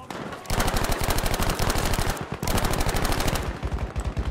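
Rapid automatic gunfire in the Battlefield 5 video game on PS4 Pro multiplayer, two long close bursts of evenly spaced loud shots with a short gap between them and no talk.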